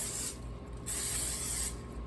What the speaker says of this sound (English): we're just going to lightly spray your pan